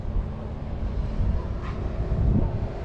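Strong gusty wind buffets the microphone at a marina ahead of an approaching big storm, with winds around 30 miles per hour on a warm day; a steady low roar and rumble continues throughout with no voices.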